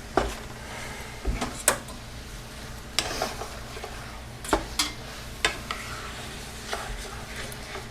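Bucatini pasta stirred with brown butter and crisped sage in a hot pan, giving a soft sizzle under intermittent scraping and clinking spoon strokes, close and moderately quiet.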